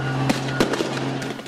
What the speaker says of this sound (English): Rocks, fireworks, and tear gas flying through the air as protesters clashed with police overnight